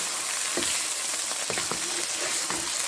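Beef pieces for achari gosht go into hot oil, giving a loud, continuous sizzle with a few soft stirring scrapes and bumps. The frying is close and steady, and no voices are heard.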